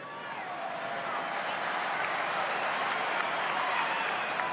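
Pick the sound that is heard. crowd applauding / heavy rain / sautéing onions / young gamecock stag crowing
crowd applauding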